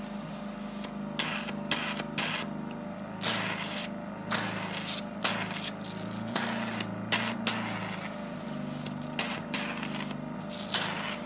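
Aquasure facial device running suction across skin, a steady mechanical hum and hiss with repeated short sucking bursts as the nozzle is lifted and moved, close and continuous.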